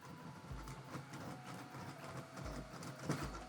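A 3D printer running a speed Benchy print, a continuous, busy mechanical whir and buzz with rapid stepper-motor tones and a few low thumps, heard close and steady throughout.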